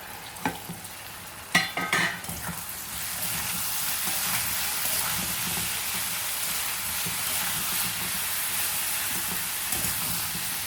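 A potato and tomato dish (Sindhi methi aloo) is stirred in a pan: a few clanks of the spoon early on, then a steady, close frying sizzle and hiss with no voices.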